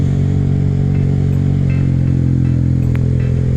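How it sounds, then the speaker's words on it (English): A Honda Grom motorcycle engine drones loud and steady with a raspy exhaust note while riding downhill, the throttle touched lightly, heard close with constant engine and wind noise and no talking. "Just touch the gas a little, listen to that raspiness."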